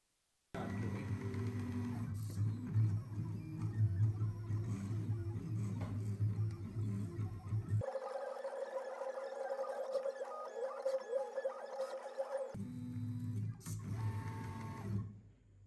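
An EasyDraw pen plotter, a writing and drawing machine, runs steadily with a low motor whir and pen-movement buzz. Partway through it switches to a higher-pitched tone for a few seconds, then returns to the lower hum, with no voices.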